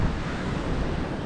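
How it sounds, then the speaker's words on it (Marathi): Waves break and wash continuously on Bhandarpule beach near Ganpatipule on the Konkan coast, a loud, dense roar of surf with wind buffeting the microphone. "लाटांचा माळा बघूया. जसप्रीत बुमरापेक्षा फास्ट टाकतात बघा."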